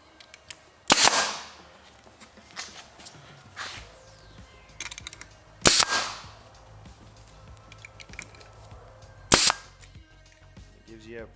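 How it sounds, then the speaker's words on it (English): A staple gun fires three sharp, loud snaps spaced a few seconds apart while fabric is folded over and stapled at the corners of a homemade sound panel made from towels, with quiet handling noise in between. "just take your gun and fold this over, and then I just put one staple right at the edge here."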